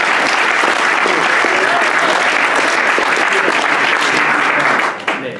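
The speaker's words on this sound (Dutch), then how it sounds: "87 punten. Applaus." Audience applause at a music soloist competition prize-giving follows the announcement of a score, a loud, sustained, dense roar of clapping that stays steady before dropping off at the end, with speech faintly under it.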